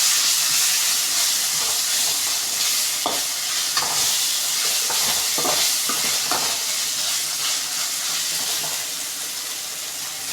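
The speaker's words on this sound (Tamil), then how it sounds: "இப்போ இஞ்சி பூண்டு பேஸ்ட் வந்து போட்டுக்கலாம். நல்லா வதக்கிக்கோங்க." Ginger garlic paste sautés in a pan for chana masala, a close, continuous hiss and sizzle with scattered scraping strokes of a spatula and no talk.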